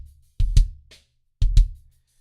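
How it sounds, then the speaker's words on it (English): A lone kick drum hits twice, each time as a quick pair of deep, punchy thumps followed by a faint tick, dry and close with silence around it. "Just my kick."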